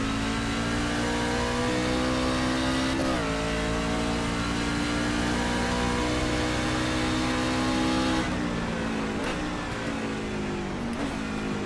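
A race car engine in a racing video game revs loudly and continuously, holding a high droning pitch with brief dips at gear shifts and a drop as the car brakes near the end, with no voices.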